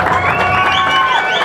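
A live crowd cheers and applauds loudly at a band's CD launch concert, a dense continuous wash of clapping and shouting voices filling the whole moment.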